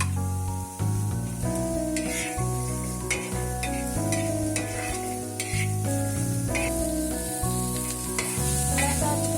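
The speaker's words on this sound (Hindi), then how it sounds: "इसको अच्छे से भून लेते हैं।" Chopped onions with red chilies fry in oil in a clay pot while being stirred, a continuous loud sizzle broken by repeated scraping and stirring strokes throughout.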